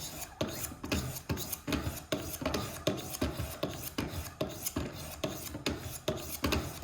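Steady back-and-forth rasping of a knife edge drawn over Wicked Edge Go sharpener stones in a polishing progression from 200 to 600 grit, about two strokes per second, close and even, with no talking.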